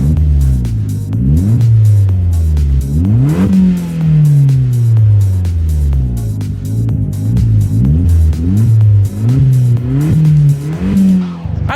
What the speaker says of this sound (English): the Abarth sounds like no other in the country because of this new exhaust system